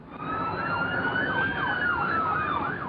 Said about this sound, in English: they heard the wail of police sirens and saw flashing police lights